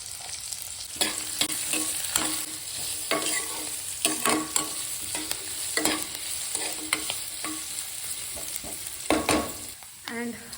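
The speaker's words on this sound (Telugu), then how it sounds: "ఫస్ట్ ఆయిల్ వేసేసాను. అండ్ బిర్యానీ మసాలాలు, పచ్చిమిర్చి అండ్ ఆనియన్స్" Onions and green chillies with biryani masala frying in hot oil for mutton keema curry, a steady sizzle broken by repeated stirring scrapes and clatters throughout, close and fairly loud with no talk.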